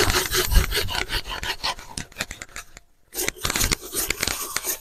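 Someone scrubs a BMW E36 320i turbo cylinder head clean with brisk, rasping strokes, loud and close, in an uneven rhythm that stops briefly before starting again.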